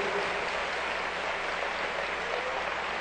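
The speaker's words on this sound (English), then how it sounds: "Let's give the Lord a big hand." A church congregation claps during a sermon, a faint, even wash of applause from a large room that holds steady without distinct individual claps.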